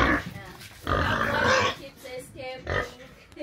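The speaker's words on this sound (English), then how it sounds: "Pigs, do you want more food?" Pigs at feeding time on a farm piggery in Uganda, with a mother pig among them, grunting in bursts close by while people talk over and between the sounds.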